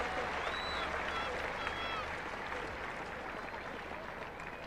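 Cricket crowd applauding at the 1977 Ashes Test between England and Australia, a steady wash of clapping with scattered whistles and shouts, dense and continuous throughout at moderate distance, fading slightly toward the end.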